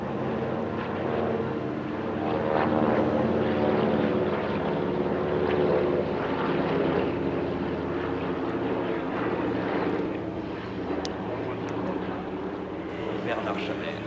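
Propeller aircraft of the Classic Formation team fly overhead at an airshow, a steady, full engine drone holding close and loud throughout, with commentary speech running over it.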